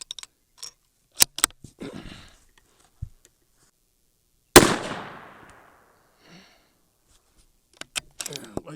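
A rifle shot at an outdoor range, fired with an 11VT rifle using a light trigger, one sharp loud crack with a decaying tail midway, amid scattered clicks and handling noises.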